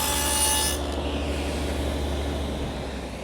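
A power saw runs steadily through a wooden workpiece, cutting a centered groove, its broad whining buzz sustained throughout before easing slightly at the end.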